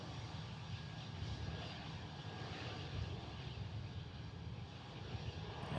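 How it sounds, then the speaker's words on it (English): Airliner taking off at Memphis International Airport, a steady broad engine roar that stays loud and continuous throughout, heard from the airport surroundings with no talking. "Oh, they're cleared for takeoff."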